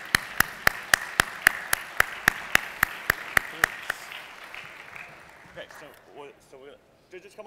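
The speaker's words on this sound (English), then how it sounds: "Let's give a big hand of applause for everybody." At a startup awards final on the Internet of Things, a single pair of hands claps in a slow, evenly spaced rhythm about a dozen times, sharp and close, before people begin talking.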